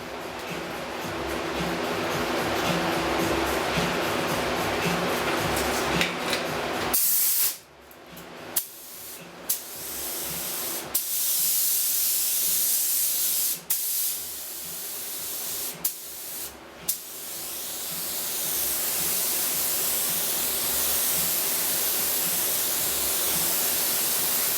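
A spray gun lays a light clear coat over a pinball playfield overlay, giving a steady close hiss that breaks off in several short pauses before running on continuously.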